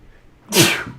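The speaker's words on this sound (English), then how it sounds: "I gotta sneeze." A single loud, close human sneeze, a short sharp burst after a brief quiet intake, with no talking around it.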